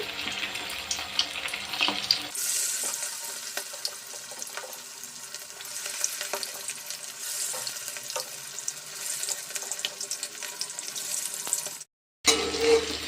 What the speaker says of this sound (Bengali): আমি কড়াতে তেল গরম দিয়ে দিয়েছি